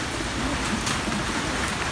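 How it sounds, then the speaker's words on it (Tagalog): Heavy rain pours steadily during a typhoon, a dense, even hiss of drops on surfaces with no pauses. "Hindi pa po humihinto yung ulan."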